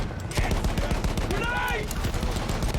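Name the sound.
machine gun fire in video game Battlefield 1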